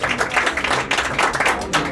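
Audience applause for an Italian fighter, Anna Maria Salvati, after her weigh-in at 49.8 kg: a steady patter of clapping hands from a nearby crowd throughout, with no talk over it.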